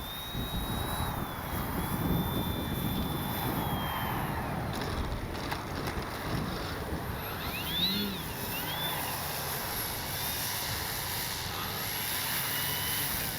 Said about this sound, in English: What a great flying plane.